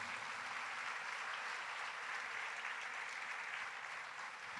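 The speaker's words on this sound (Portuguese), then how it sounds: "Pode aplaudir ao Senhor" Applause at the DEEP Conference 2020 church gathering comes as a faint, dense, even wash of clapping from a large audience, held steady with no voices above it.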